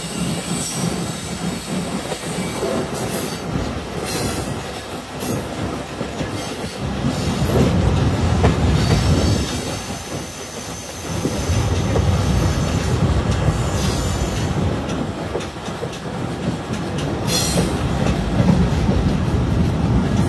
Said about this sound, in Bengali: আমাদের ট্রেনটি এখন 1 নং প্ল্যাটফর্মে প্রবেশ করবে।